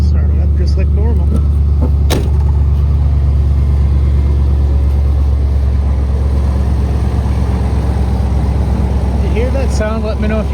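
An old truck's engine turns over on a cold start and keeps running as a loud, steady low rumble. The truck has a broken leaf spring shackle and a failed master cylinder. Faint rattling and clicks ride over the idle.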